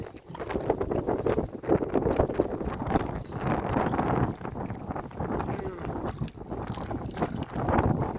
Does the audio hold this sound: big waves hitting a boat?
yes